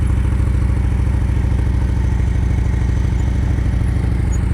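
A motorcycle engine runs steadily at low, even revs through slow-speed riding practice, a constant close mid-pitched drone with light mechanical clatter and no speech.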